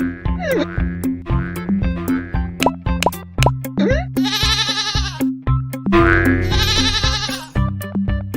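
Repeated bleats from a goat in a video game, loud and close, several calls in quick succession over springy plopping game effects and music.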